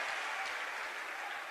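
Applause from a devotional gathering's audience at the closing day of a religious discourse event in Jabalpur, a dense, steady wash of many hands clapping together without a break and no speech over it.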